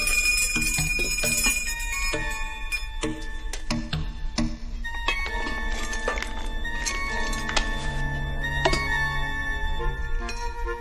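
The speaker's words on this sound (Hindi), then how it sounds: "घंटा" Metallic bells ring and clang in a busy overlapping pattern, with sustained tones and sharp strikes layered throughout and no voices.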